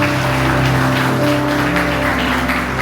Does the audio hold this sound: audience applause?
yes